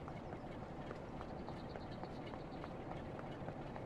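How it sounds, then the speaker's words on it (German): A steam train in Train Sim World 4's remastered West Somerset line pulls away from the station, with a steady dense rumble and rhythmic clanking chuffs repeating throughout at moderate distance. "Ja, man hört schon, wie sie losfährt."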